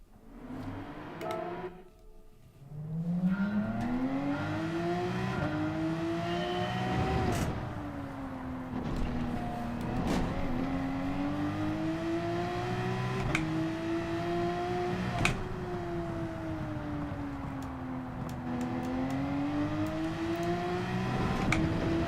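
A Group 3 race car laps the Nürburgring GP course in Gran Turismo 7, its engine note climbing and falling steadily through gear changes in a smooth, continuous drone, with no talk over it.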